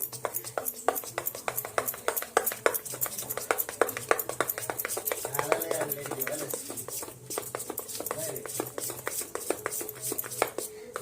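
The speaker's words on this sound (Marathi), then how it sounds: "इनो घातला की लगेच याला फेटून घेऊ आपण" Rice-flour dhokla batter is whisked in a bowl right after Eno is added. Quick, rhythmic tapping and scraping of the whisk against the bowl repeats steadily and close by.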